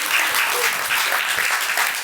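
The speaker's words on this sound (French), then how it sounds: "Applaudissements, mesdames et messieurs." An audience at an experimental physics lecture on light breaks into full, close applause: a loud, dense patter of many hands that is sustained for the whole two seconds.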